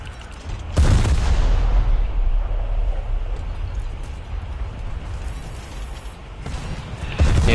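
Tank cannon fire in War Thunder, a loud booming blast with a sustained rumbling roar and mechanical creaking that trails off, then a second sharp blast near the end.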